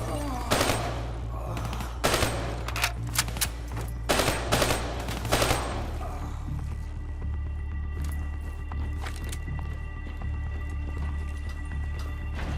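Video game gunfire in Call of Duty Black Ops III, bursts of rapid automatic shots with sharp cracks in the first half, then thinner scattered pops under a busy game soundscape.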